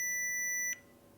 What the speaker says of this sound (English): you can hear that it beeps and a little LED comes on red there to indicate that it's received the digit